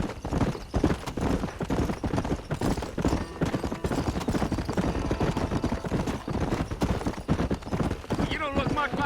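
In the video game Red Dead Redemption, a horse gallops with dense, rhythmic hoof clip-clops throughout, heard steadily and fairly close, while voices talk over the hoofbeats.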